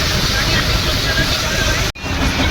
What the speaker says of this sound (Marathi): याला म्हणतात मुसळधार पाऊस